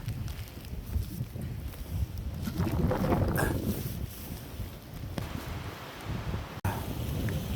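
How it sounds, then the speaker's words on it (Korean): Strong wind gusts across Munjangdae peak on Songnisan, producing loud, buffeting rumble and noise against the microphone that rises and falls in surges. "바람이 너무 많이 불어요 장난이 아니고 바람이"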